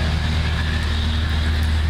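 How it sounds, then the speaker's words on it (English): A coal truck drives by close, its loud, steady low engine rumble filling the moment without a break. "let the coal truck go by."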